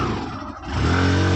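A motorbike engine idles and then revs up into a sustained loud drone nearby on a crowded village road, with no talking.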